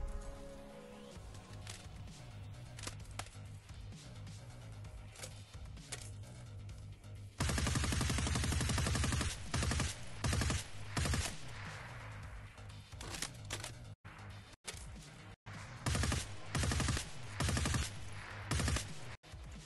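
RPD machine gun in Escape from Tarkov, starting with a quieter stretch and then breaking into loud, close, rapid bursts of automatic fire separated by short pauses.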